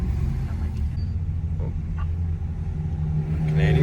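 Traffic leaving the Quail during Monterey Car Week, a steady low rumble of passing car engines close by with a revving swell near the end.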